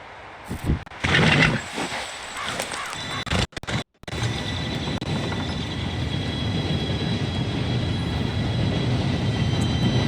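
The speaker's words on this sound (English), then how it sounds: "Train should be here any minute now." A steady, continuous rumble of an arriving train in Red Dead Redemption 2, loud and sustained after a brief break, preceded by a short burst of clattering movement.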